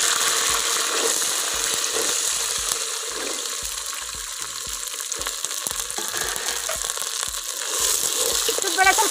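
Toor dal and browned onions fry in a pan for lima bean (avarekalu) curry, a loud continuous sizzle close up with frequent rhythmic stirring scrapes throughout.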